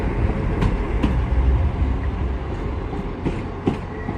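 An Arriva Class 175 diesel train departing Shrewsbury station, a loud close rumble of engine and wheels with rhythmic clicks of wheels over rail joints, and no talk.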